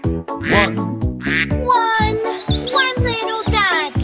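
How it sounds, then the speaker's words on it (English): Cartoonish duck quacks repeat in a quick rhythm over a bouncy children's song with bright melodic chirps, loud and close. "Mother duck said quack, quack, quack, quack"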